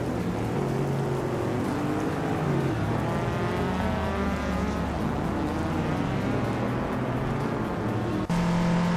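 A 1996 Nissan 180SX Type X racing in a video game, its engine droning continuously at high revs with shifting pitch as other cars race nearby. Steady and loud throughout.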